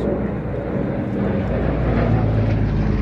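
A Douglas C-118 propeller airliner at the Midlands Air Festival gives off a loud, continuous engine and propeller drone that fills the whole moment without a break.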